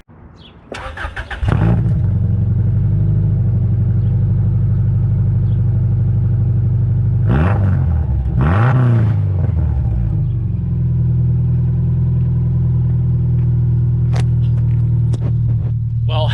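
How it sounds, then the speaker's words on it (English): A 2002 Subaru Outback with 210,000 miles and its muffler off starts from cold: a cranking burst, then a loud, raw, steady idle rumble close by, with a couple of brief revs midway. "I'll give you guys a cold start right now."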